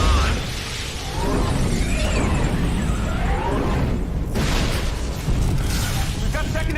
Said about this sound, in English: We've got secondary explosions in the engineering area.